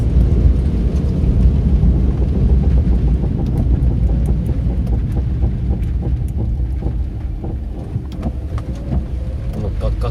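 A Suzuki Wagon R with about 167,000 km makes a grinding noise from the front left while braking and slowing down, a rapid rough rattle heard over steady low road rumble from inside the car.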